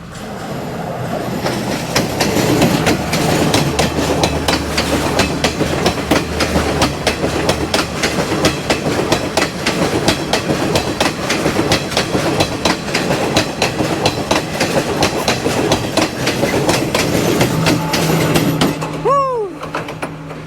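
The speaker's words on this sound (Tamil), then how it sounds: "பார்த்தீங்களாண்டா ட்ரெயின் வருது இது வந்து கொழும்பு ரெயின் போல் இருக்குது" A train rumbles past close by on a Sri Lankan railway near Ihalakotte, its wheels clattering in a steady clickety-clack rhythm, with a brief squeal near the end.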